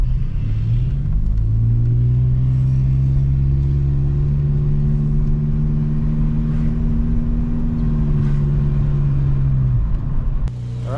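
An automatic-transmission Mk2 Volkswagen Jetta engine drones steadily from inside the cabin, its pitch rising smoothly and holding as the car drives around a block, with low road rumble throughout.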